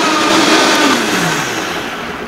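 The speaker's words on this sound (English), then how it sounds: "Let's test a green apple. I'm going to use a Vitamix for this because it needs more power." A Vitamix blender roars steadily at close range while pulverizing a green apple, a loud dense whir that holds strong throughout and eases slightly toward the end.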